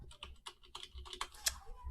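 Rapid typing on a computer keyboard during a live coding session, with irregular clusters of close, crisp key clicks and one sharper strike near the end, heard alone without talk.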